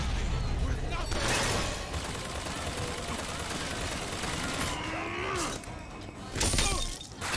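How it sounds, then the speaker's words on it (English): Enemy gunfire in the Bioshock Infinite: Burial at Sea shooter game, dense bursts and shattering impacts running loud through the scene amid busy game noise, with a voice briefly heard. "Now who's around here shooting at me?"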